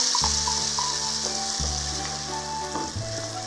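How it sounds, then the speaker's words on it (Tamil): Banana paste for halwa sizzling and crackling in hot ghee as it is stirred, a loud close fry with steady hiss and a few low scraping pulses from the spoon. "பனானாவை ஆட் பண்ணிக்கலாம். ஆட் பண்ணி நம்ம கிண்டி விட்டுட்டே இருக்கணும்."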